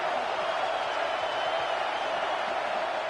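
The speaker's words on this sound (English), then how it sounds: "Listen to the crowd energy here in the early going." Stadium crowd at an American football game, a dense, steady roar of many voices filling the whole stretch at constant loudness, with no single shouts standing out.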